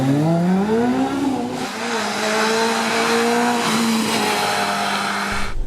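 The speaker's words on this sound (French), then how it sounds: "Il y a des prototypes Caterham sans phare" A Caterham prototype race car at a historic hillclimb, its loud engine revving up through the gears, the pitch dropping at each shift, then holding steady as it pulls away.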